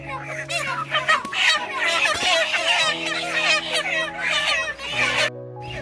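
Chickens at a poultry farm cluck and squawk nonstop during a delivery, a busy close flock chorus with a mechanical hum underneath and faint human voices mixed in.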